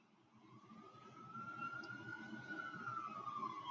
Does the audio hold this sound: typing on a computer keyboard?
no